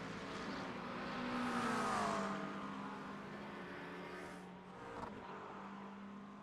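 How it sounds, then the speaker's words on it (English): McLaren GT3 race cars accelerating in a racing game at Twin Ring Motegi, a steady engine drone with a rising, whining pitch that swells, then settles, with a brief shift near the end. "2 McLarens trying to hang on to it as they put the power down"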